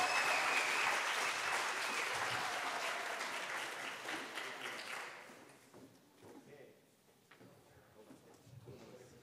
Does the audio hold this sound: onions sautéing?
no